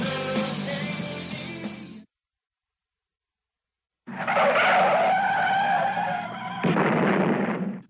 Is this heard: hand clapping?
no